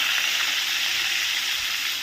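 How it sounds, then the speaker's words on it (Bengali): Potato pieces fry in hot oil in a pan, giving a steady, loud, close sizzle with dense crackling that holds evenly throughout. "এই তেলের মধ্যে কি করছি, আমি আলুগুলো একটু ভেজে নেব।"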